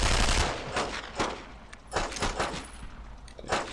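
Bursts of gunfire from the video game Brothers In Arms: Road To Hill 30, a loud rapid volley with several further shots and short bursts close by, one after another with no pause in between.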